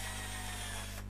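Power drill boring magnet pockets into a wooden Les Paul guitar body, a steady continuous whine close by that cuts off sharply near the end of the short burst.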